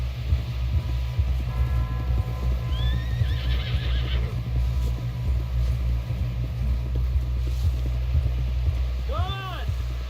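In Red Dead Redemption 2, a horse whinnies twice, briefly midway and again near the end, over a constant low rumble and faint scattered hoofbeats.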